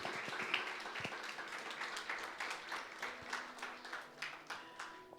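Congregation applause during a church service, a dense wash of clapping that builds then thins into separate claps, moderately distant and fairly quiet.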